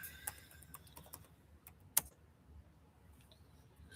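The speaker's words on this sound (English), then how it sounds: "Let me type that up." Close, quiet typing on a computer keyboard, scattered key clicks in uneven bursts with one sharper tap, over a faint low background hum.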